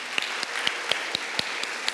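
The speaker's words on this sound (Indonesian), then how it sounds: "Tepuk tangan untuk hamba-hamba Tuhan ini." A church congregation applauds with a regular, evenly spaced clapping beat, each clap crisp against a soft steady wash of scattered hands.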